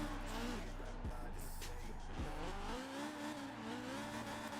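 A BMW E30 engine in Forza Horizon 4 revs and drops through gear changes, loud and close, with a rising then falling whine and occasional tire noise.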